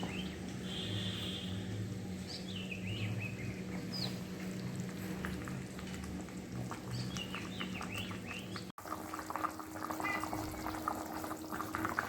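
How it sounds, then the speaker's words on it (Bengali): Water boils steadily in a pot for a catfish curry with papaya and potato, a continuous low bubbling hiss under faint background chirps, with no speech. "এই দেখুন বন্ধুরা খুবভাবে জলটা ফুটে ফুটেছে"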